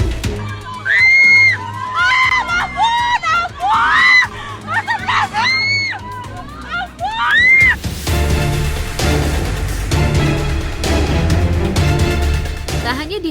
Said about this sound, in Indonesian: para penumpang yang berada di dalam bus pun berteriak histeris sambil menangis